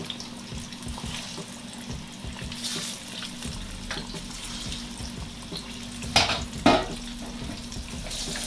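Plantain and fried dumplings sputter in a pan of oil with a continuous close sizzle, broken by a couple of sharp crackling bursts and light scraping as the pieces are moved.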